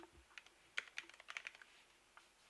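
Quick, light typing on a computer keyboard, a close and quiet scatter of key clicks in two short bursts with a brief pause between them.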